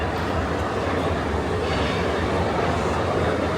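A Walt Disney World monorail pulls away from the Contemporary Resort with a steady, loud rumble of wheels and motors, close by and continuous.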